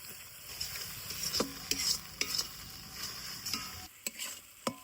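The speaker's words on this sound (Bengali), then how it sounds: "এবার সব মশলায় কিন্তু হালকা করে কষিয়ে নিব" Ground spice pastes of chilli and turmeric with Kashmiri chilli powder being sautéed in oil, a steady sizzle broken by sharp scraping stirs of a spatula against the pan, close and fairly quiet with no talking.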